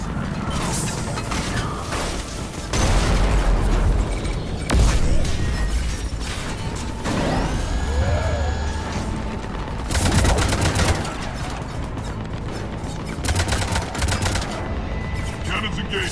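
Ship cannons fire in Mass Effect 3 amid mechanical clanks and heavy bursts, with loud repeated blasts and whirring machinery across a busy game soundscape that also includes some talking.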